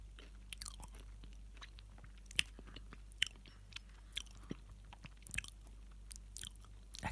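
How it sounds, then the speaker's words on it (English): Crunchy chewing and biting close to the mic, irregular crisp bites and mouth sounds over a quiet background, with no talking. "It depends if you're into chewing sounds"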